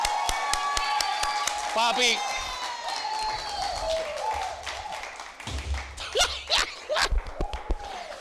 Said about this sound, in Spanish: vamos a presentarle un aplauso a Ricky Laureano